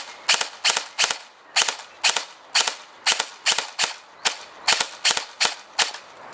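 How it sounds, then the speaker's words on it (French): An airsoft V2 gearbox on an 11.1 V battery fires short bursts of mostly two shots, sharp snappy cracks in quick pairs and triplets repeating at an even pace, close and loud with no voices. "c'est que sans modification interne, hein, et vous allez avoir un burst de 2 la plupart du temps"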